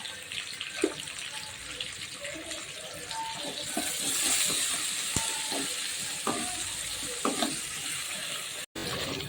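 About twenty onions with a little salt sauté in a pan, giving a steady soft sizzle with intermittent clinks and scrapes of a stirring spoon, close and moderately quiet.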